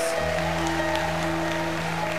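Catholic prayer group audience applauding in a church hall, a soft, continuous wash of many hands under steady sustained keyboard tones, fairly quiet and even throughout.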